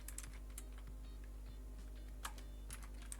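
Rapid, uneven key clicks from typing a short command on a computer keyboard, close and fairly quiet over a steady low hum, with no talking.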